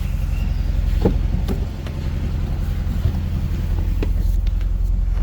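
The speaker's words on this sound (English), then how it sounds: "this thing is extremely loud" A car with a faulty throttle body idles unusually high, a loud, steady low engine drone close to the microphone with some wind buffeting and no talk.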